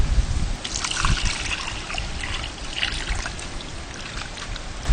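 Water trickles and pours steadily while chicken is washed with turmeric in a home kitchen, a continuous splashing flow lasting several seconds with no talk.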